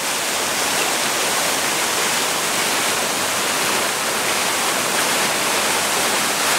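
Water in the Milwaukee Art Museum fountain circulates in a steady, loud, unbroken rush like a waterfall, with no voices.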